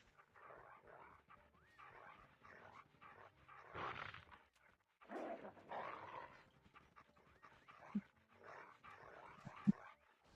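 Dog panting and barking in a Call of Duty Mobile match, with several short rough bursts through the clip and two sharp louder hits near the end, all at moderate level over faint game noise.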